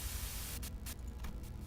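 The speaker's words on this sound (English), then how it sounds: "a sudden buzz of white noise breaks through the truck's silence." Radio static hisses as a steady broadband white-noise buzz inside a truck, continuous for under two seconds with faint pulsing bursts partway through.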